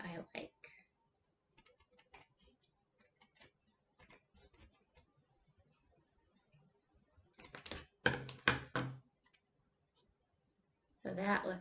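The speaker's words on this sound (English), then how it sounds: "So I'm going to trim it till it's at a width I like." Scissors trim a paper wing support for a dragon automaton craft, giving sparse light clicking snips close by, with brief bursts of voice in between.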